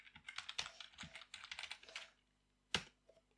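Quick, light clicking of computer keyboard keys as an IP address is typed, a rapid run of keystrokes followed by a short pause and one sharper key press, close and very quiet.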